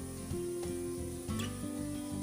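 Ginger sizzles steadily in a pan for Kerala puli inji, a soft continuous frying hiss under a tonal background hum.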